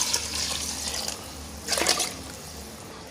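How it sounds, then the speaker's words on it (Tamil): Water is poured into a pot of frying tomato rice, a splashing, hissing rush that swells briefly midway over steady sizzling. "இனி தண்ணி சேர்க்கிறேன்."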